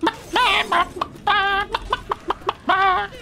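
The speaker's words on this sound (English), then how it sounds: "Keep clucking like a hen." Hens cluck in a game of Left 4 Dead 2 with a chicken mod: several short, choppy clucks in quick bursts, close and clear. No talk is heard.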